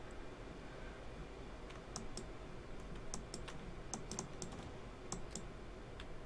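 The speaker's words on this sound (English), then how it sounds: "I'm using a mouse and keyboard." Scattered computer keyboard keystrokes and mouse clicks on a PC used to play a train simulator, faint and close, in small irregular bursts over a steady low background hum.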